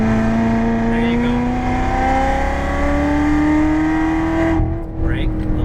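A Chevrolet Corvette C7 accelerates on a race track, its engine drone rising steadily in pitch and loud from inside the car, then easing off near the end.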